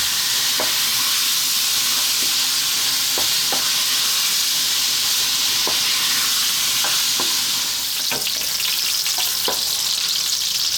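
Pork belly rendering in a hot pan, a loud continuous sizzle and spatter with occasional utensil taps as the meat is moved around.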